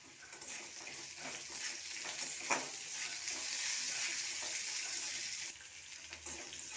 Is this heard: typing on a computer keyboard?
no